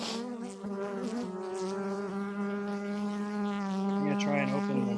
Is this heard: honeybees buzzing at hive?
yes